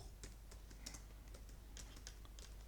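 Typing on a computer keyboard, quiet and close: a quick irregular run of light key clicks with no voices.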